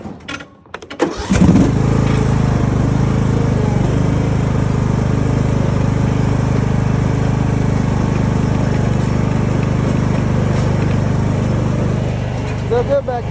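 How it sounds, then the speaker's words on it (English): A lawn mower engine catches after a brief start attempt, then runs loud and steady close by for the rest of the stretch, a continuous droning rumble with no talking over it. "See if the lawnmower has enough guts."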